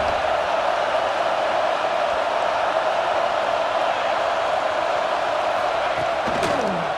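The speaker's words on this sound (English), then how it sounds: "The Buckeye crowd alive on 3rd down." A stadium crowd at an Ohio State Buckeyes football game roars on third down, a dense and loud wall of cheering that holds steady throughout.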